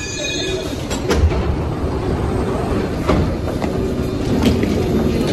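A Paris metro train in the station, a steady loud rumble of rolling cars with occasional sharp metallic clacks and a faint high wheel squeal, continuous throughout.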